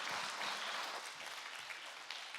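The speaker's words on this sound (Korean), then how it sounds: "다시 한번 하나님께 크게 영광의 박수 하겠습니다." A church congregation claps together in a soft, continuous round of applause, heard from a distance as an even, textured patter of many hands.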